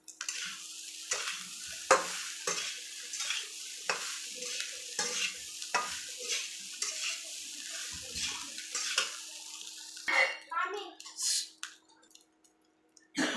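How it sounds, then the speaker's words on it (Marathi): Leftover rice with egg being stirred in a frying pan, with a spatula scraping and scooping in a steady rhythm over a soft sizzle, close by, followed by a few louder clatters near the end. "व याला चांगल्या प्रकारे हलवून घ्यायचे।"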